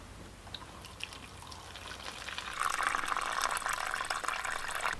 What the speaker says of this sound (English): We're going to fill this about halfway full so that this can soak up that water